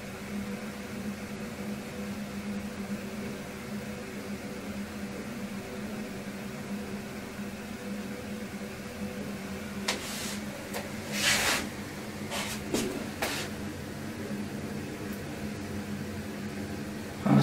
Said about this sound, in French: Ce que vous entendez là, c'est la VMC.